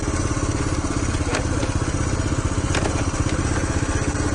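A postie motorcycle engine idling close by, with a steady, rapid putter that holds even throughout.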